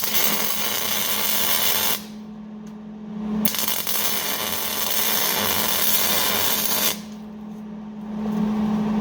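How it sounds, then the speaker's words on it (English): Welding tack welds on scrap metal for a paint stand: a loud, steady crackling hiss sounds close in two long stretches, broken by a short lull with a low hum underneath. "I'm going to do a couple welds in here"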